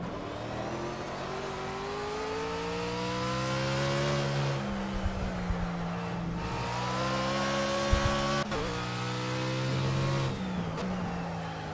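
A BMW Z4 GT3 race car in Project CARS howls around the Nürburgring GP circuit, engine rising through the revs, briefly dropping at sharp upshifts, then climbing again, loud and close.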